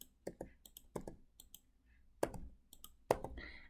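Sharp, distinct mouse clicks on a computer while filling in boxes in a math tool, a handful of separate taps spread irregularly over a few seconds, close and fairly quiet in a still room.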